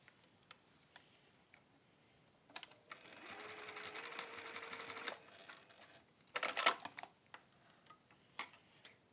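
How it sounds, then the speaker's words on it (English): A domestic sewing machine stitches across a textile jewellery clasp in a short steady burst of rapid mechanical ticking, with faint handling clicks before and after. "I'm just going to sew across there just to make sure that nothing unravels"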